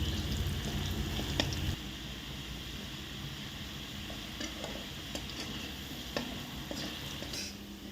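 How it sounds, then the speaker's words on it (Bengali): Potatoes fry in a pan for a prawn curry, giving a soft, steady sizzle broken by occasional scraping stirs and light clinks. "আলুটা ভালো করে ভেজে নিচ্ছে"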